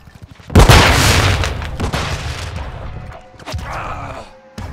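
A flashbang grenade goes off in Call of Duty: Modern Warfare II with a sudden loud boom about half a second in, followed by a long ringing rumble and a few smaller pops as it fades.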